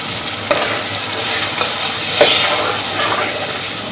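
Tomato paste poured into a frying masala for achari keema, giving a steady broadband sizzle with stirring scrapes and a brief louder splash as the paste hits the hot oil.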